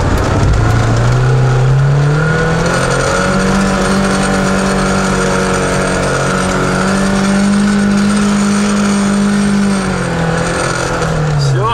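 A Lada Niva climbs a muddy hill in the last of the snow, its engine droning loud and steady with rising and falling pitch as it pulls up the slope, close up throughout.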